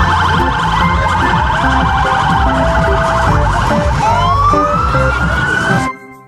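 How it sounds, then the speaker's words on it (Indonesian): A toy ambulance siren gives off a loud, continuous electronic wail with layered warbling tones and a rising sweep near the end, then cuts off abruptly after about six seconds. "Yang ini ada mobil ambulans."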